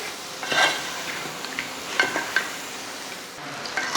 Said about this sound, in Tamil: நம்ம பொறிச்சு வச்ச சிக்கனையும் இதில் சேர்த்துடலாம் சேர்த்துட்டு இது நல்லா வதங்கட்டும்